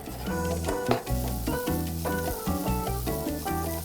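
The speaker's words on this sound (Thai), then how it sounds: "เราจะใส่หอมใหญ่ลงไป แล้วก็ผัดจนหัวหอมใส" Onions sauté in melted butter with a busy, close sizzle and frequent stirring scrapes and clinks across the whole stretch, moderately quiet and without talk.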